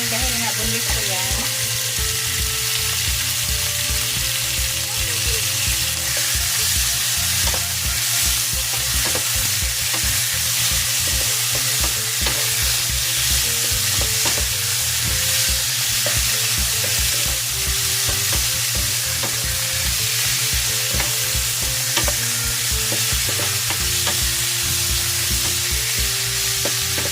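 Boneless chicken fries with garlic in a pan, a loud, continuous sizzle holding steady throughout, with a low rhythmic hum underneath and no speech.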